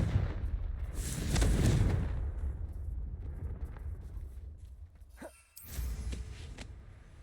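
A Confringo blast spell in Hogwarts Legacy, a heavy booming explosion with rumbling low-end debris, followed by a second sharp burst a few seconds later.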